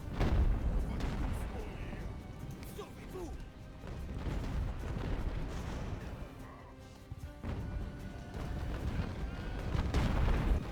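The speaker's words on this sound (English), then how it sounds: "I'm trying to put my mortar on these small ones to try to dissolve them" Mortar rounds fire and burst in a naval battle in Ultimate Admiral: Age of Sail, rolling, continuous booming and crashing spread over the whole stretch, with voices partly audible beneath.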